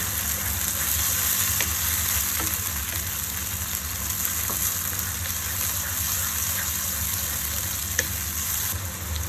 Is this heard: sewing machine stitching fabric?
no